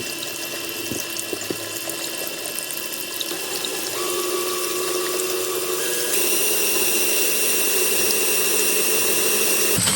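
A glass bottle is scored with a diamond-tip glass blade, producing a steady, continuous grinding hiss with a high-pitched whine that rises slightly and grows brighter partway through, heard close and alone.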